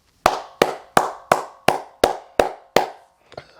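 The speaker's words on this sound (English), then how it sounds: "I'm giving Tua a round of applause" One person claps eight times in a steady rhythm. The sharp, close claps are evenly spaced and fairly loud, and a fainter tap or two follows at the end.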